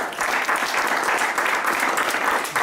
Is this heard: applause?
yes